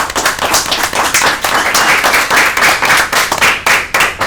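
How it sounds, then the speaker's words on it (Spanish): A studio audience applauds to welcome a world and Pan American kumite karate champion onto a talk show, dense continuous clapping at full volume with almost no talk. "Un aplauso."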